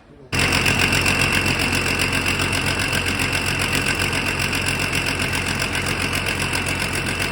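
A John Deere 9520 tractor engine fires abruptly after a brief silence and settles into a loud, steady running drone with a rhythmic knocking pulse, close by and unbroken to the end.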